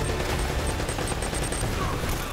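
Dense rapid gunfire from the video game Uncharted: Drake's Fortune rattles in a continuous fusillade of overlapping shots, loud and close, with no pause across the stretch.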